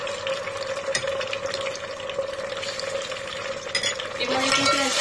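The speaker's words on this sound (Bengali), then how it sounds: "এবার এটাকে একটু ভেজে নিচ্ছি" Ginger and garlic paste frying in a pan gives a steady, close sizzling hiss with faint stirring, growing slightly louder toward the end.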